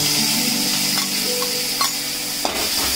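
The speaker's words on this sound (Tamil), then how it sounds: "இதுல மணத்தக்காளி வத்தல் வறுத்து எடுத்துக்கலாம்." Dried manathakkali berries fry in a pan for a Tamil kara kuzhambu, giving a loud, continuous sizzle and hiss with a few faint stirring clicks.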